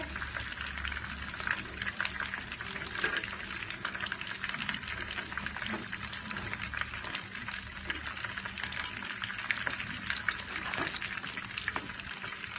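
Chicken pieces sizzle steadily in hot oil, a continuous close crackle and hiss with scattered pops, with no voices over it.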